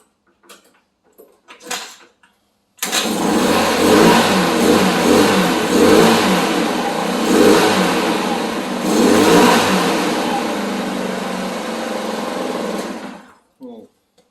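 A 50cc Chinese scooter engine, fitted with an upgraded clutch and its cover held by only three bolts, catches after a few short cranking bursts and then runs, revving loudly and steadily for about ten seconds before shutting off.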